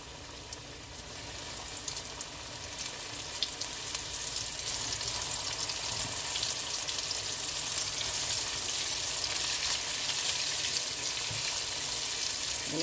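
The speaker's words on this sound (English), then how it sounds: "I'm gonna go ahead and add it to my oil" Coated chicken pieces frying in hot oil for a Jamaican-style dish give off a loud, steady, close sizzle that swells a little after the first seconds and keeps on without a break, with no talking.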